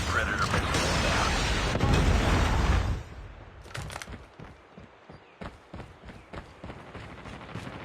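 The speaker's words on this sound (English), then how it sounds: "Friendly Predator missile inbound." A Predator missile strike in Call of Duty Mobile lands as a loud, dense roaring blast lasting about three seconds, followed by scattered sharp gunshots and clatter at a lower level.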